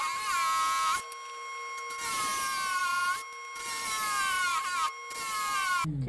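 A cabochon stone being trimmed on a lapidary trim saw, a high whining tone that shifts in pitch as the blade cuts, broken by several brief pauses, close and fairly quiet.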